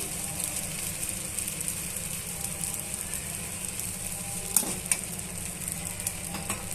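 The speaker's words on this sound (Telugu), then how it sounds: "రెండు నిమిషాలు వేగనిద్దామండి దోశని" Dosa batter spread thin on a hot pan with oil added on top, frying with a soft, steady sizzle and a couple of faint clinks near the end.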